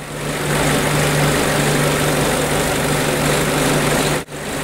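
A car engine idles steadily and fairly loudly up close during a diagnostic check of the EGR system for insufficient flow, a constant low hum with a brief dip near the end.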